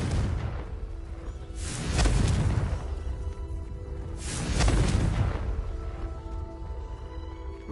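Two separate loud, rumbling blasts from the Confringo blasting spell in Hogwarts Legacy swell up and fade a few seconds apart over a low, constant background hum.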